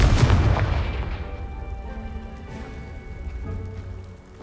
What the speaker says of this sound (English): Someone piled this here for a reason. Is it blocking something? Only one way to find out.